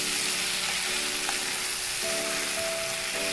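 Prawns fry with curry leaves in hot oil for a Kerala-style chemmeen roast, giving a loud, continuous, dense sizzle close to the pan with no talk over it.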